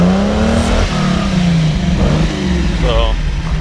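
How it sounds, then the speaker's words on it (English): A 1973 Lamborghini Espada Series III engine revs loudly up close, its exhaust note rising and falling in steady swells while a person talks over it. "Go ahead and rev it up a little bit."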